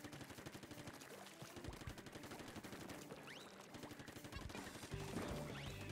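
Rapid ink weapon fire crackles almost without pause during a competitive Splatoon 3 championship match, with dense overlapping shots, splats and game effects over a busy, loud mix.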